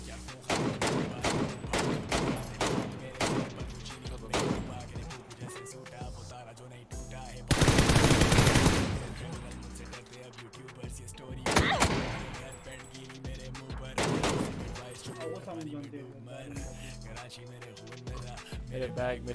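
Gunfire in a PUBG match, coming as rapid bursts of automatic shots and single cracks spread across the stretch, with one loud sustained blast in the middle and a player talking over it.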